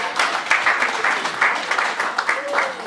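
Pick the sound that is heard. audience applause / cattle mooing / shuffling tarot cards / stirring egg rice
audience applause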